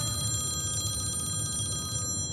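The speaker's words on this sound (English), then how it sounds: "Sorry, is that her ringtone? Because that sounds like, an olden day phone." An old-fashioned telephone ringtone plays continuously as a bright, steady electronic bell trill, fairly loud and alone, cutting off near the end.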